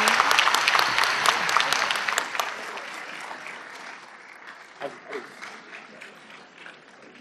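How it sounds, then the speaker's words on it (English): At a conference in Pakistan, an audience claps for Malala Yousafzai receiving an honorary shield. The applause is loud at first, then thins to scattered claps, and people can be heard talking as it dies down. "A big round of applause, everyone."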